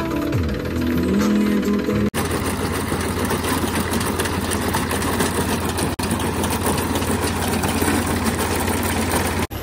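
A tractor engine idles in a grass field with a steady, loud low rumble and rhythmic knocking throughout, broken by a few brief dropouts and an uneven stretch at the start.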